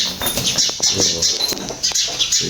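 Rapid wing flaps from a pigeon taking off nearby, a flurry of fluttering beats over about two seconds with no talking.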